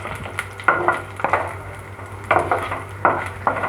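Something fries in a pan for a hotel-style kara chutney, with a constant low sizzle under repeated loud metallic scrapes and knocks of a spatula against the pan, close and rhythmic, no speech.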